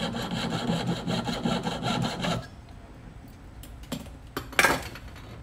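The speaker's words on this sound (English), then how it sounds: "All right, a little noise here as I cut this." A saw cuts through material in a maker's studio with quick, steady back-and-forth strokes for about two seconds, then stops, followed by a few scattered clicks and knocks nearby.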